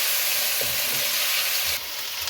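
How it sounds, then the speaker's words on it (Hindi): Garlic ginger paste frying with beef in a pan, a steady broadband sizzle that carries on without a break, close and fairly loud, with no voices. "हाफ टेबल स्पून लहसुन अदरक पेस्ट वो इसमें डालें और इसको भून लें।"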